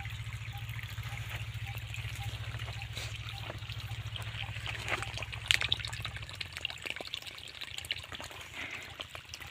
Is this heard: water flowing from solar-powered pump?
yes